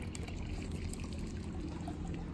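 Water pouring from the return line of an aquaponic system in a greenhouse, a steady close splashing trickle that runs continuously and fairly faintly for a couple of seconds with no talk.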